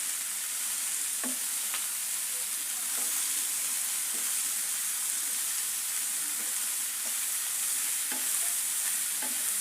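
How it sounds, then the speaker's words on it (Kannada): Chopped cabbage stir-fries in a hot pan with a steady, loud sizzle and hiss, broken by occasional light scrapes and taps from stirring. No one talks. "ಕ್ಯಾಬೇಜ್ ಬಿಸಿ ಆಗ್ತಾ ಇದ್ದಂಗೆ ಕ್ವಾಂಟಿಟಿ ಕಡಿಮೆ ಆಗುತ್ತೆ."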